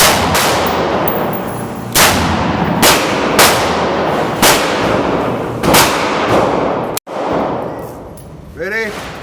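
A Ruger Mini 14 .223 rifle fires about seven loud, sharp shots at irregular intervals of a second or two, each with a short ringing tail, during test firing for a stovepipe jam.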